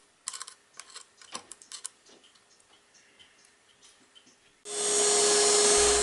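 Splintery oak for a clock case is trimmed by hand, first a run of light irregular clicks and taps, then a loud, steady power tool whine that starts abruptly and runs to the end.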